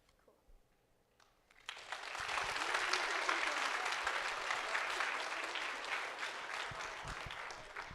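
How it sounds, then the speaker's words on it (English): A near-quiet room breaks into applause after a student-led veterinary clinic presentation, the clapping swelling quickly into a full, steady round that holds and slowly tapers. "let's give them an extra round of applause"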